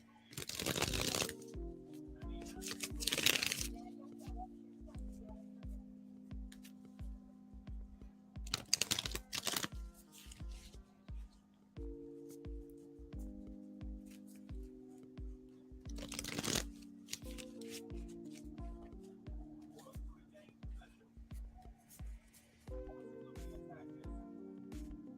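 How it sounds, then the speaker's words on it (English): Tarot cards are shuffled in several bursts of crisp riffling and flapping, close and fairly loud, separated by quieter stretches with a low tonal hum in the background. "Shuffling for you now."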